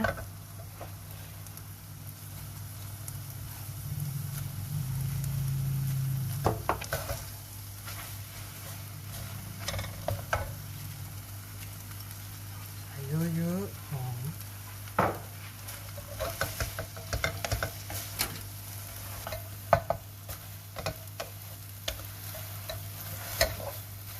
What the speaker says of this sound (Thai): ผัดให้ผักสุกอีกทีนะ ผัดไปแห้งแล้ว